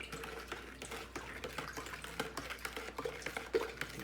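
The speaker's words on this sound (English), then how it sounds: "You can go ahead, mix that all together" Sugar being stirred into a lemonade mixture, giving a quiet run of irregular scraping, clinking and swishing taps at close range with no talking.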